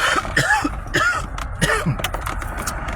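A man coughs and clears his throat close up, several rough, raspy bursts in quick succession with a few vocal grunts between them.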